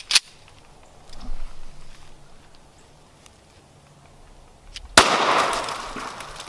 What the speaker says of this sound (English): this is a 9mm versus a tomato